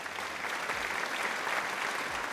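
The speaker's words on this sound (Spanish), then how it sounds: "Un fuerte aplauso, por favor." An audience applauds steadily and evenly throughout, a continuous wash of clapping at moderate volume with no voices over it.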